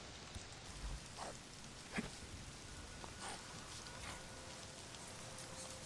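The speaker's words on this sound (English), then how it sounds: "definitely see how the uh, rain affects the sound in the game for sure" Steady rain in a video game patters across the whole clip, with a few louder drops and splashes standing out against the constant hiss.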